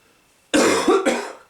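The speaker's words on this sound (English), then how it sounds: "Don't worry, it's not another Rona cough." A single adult's cough, loud and close, in two or three harsh bursts over about a second, heard alone with no talk, during a wrestling commentary show.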